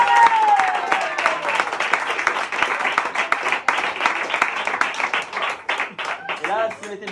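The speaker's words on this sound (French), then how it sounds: "Et on va t'applaudir très très fort." A festival crowd at Megève applauds loudly and steadily throughout, with dense overlapping clapping and some cheering voices mixed in.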